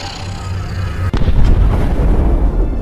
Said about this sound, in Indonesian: sebuah ledakan pun terjadi